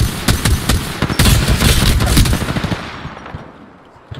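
Rapid automatic gunfire from the video game Apex Legends bursts out loud and close in dense rattling volleys, then thins out and fades toward the end, with a final faint shot.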